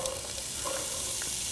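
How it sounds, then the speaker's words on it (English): Sweet onion sizzling in a hot skillet, a loud, steady, close frying hiss with faint crackles and no pauses. "Can you hear that nice sizzle?"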